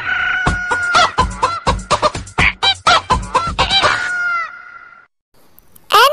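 Loud, close chicken clucks and squawks in quick, irregular bursts, ending with a longer call, a short pause, then one more squawk, from an animated moral story.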